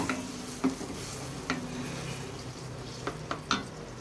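Metal utensil clinks and scrapes against a pan at irregular intervals over a steady low sizzle while cooking anchovy fish curry, close by, with no talking.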